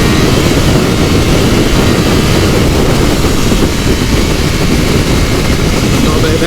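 A 2024 Triumph Daytona 660 motorcycle pulls hard in first gear, its engine roaring loud and close in a steady, dense, unbroken drone mixed with heavy wind rush for the whole stretch.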